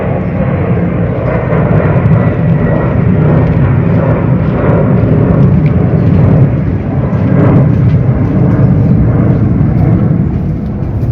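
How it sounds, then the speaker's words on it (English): A plane passes overhead at an outdoor hiking spot, a loud, steady low roar that swells gently and holds through the whole stretch with no talking. "there's going to be some background noise, just people hike here, and there's planes and stuff"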